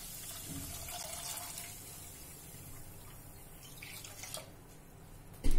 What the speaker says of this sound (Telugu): ఒక కప్పు షుగర్కి 6 కప్స్ వాటర్ యాడ్ చేసుకోవాలి